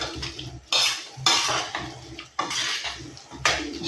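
Onions, carrots and peppers being stirred in a pan for a curry base, with repeated bursts of scraping and metal utensil clatter in a rough rhythm about once a second, close and fairly loud, with no talking.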